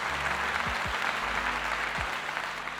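Applause fills the clip as a dense, steady wash of clapping from start to finish, with low tonal music running underneath and no voices.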